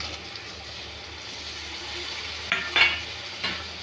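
A spoon stirs soybean chunks and diced potato in a hot pan over a soft, steady sizzle, with a few louder scrapes and clinks near the end.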